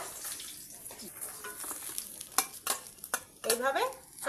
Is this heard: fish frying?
yes